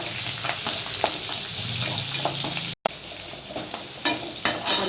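Crushed garlic sautés and sizzles in a pan for bottle gourd stir-fry, a steady loud frying hiss with scattered stirring clinks and scrapes, briefly cut to silence near the middle before resuming.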